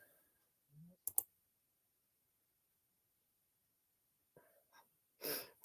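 A few quick computer mouse clicks in a pair near the start, crisp and close, followed by a short sniff or breath later in an otherwise quiet room.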